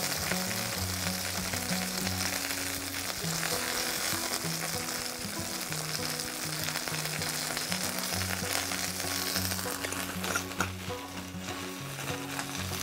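Chicken pieces frying and browning in a Dutch oven on a stovetop, giving a steady, loud, continuous sizzle that runs unbroken throughout.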